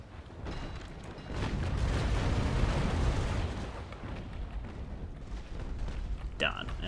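Ship cannon fire in the naval combat game Naval Action, a broad rumbling barrage of booming shots that swells and lingers, with battle noise continuing throughout and a sharper burst near the end.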